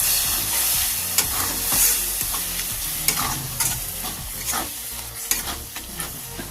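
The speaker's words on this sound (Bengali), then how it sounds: "দিয়ে আবার ভালো করে নাড়াচাড়া করে মশলাটা ভেজে নেব।" Spice masala fries in a pan with a little added water, a spatula stirring and scraping in repeated strokes over a loud, close, continuous sizzle, no voices.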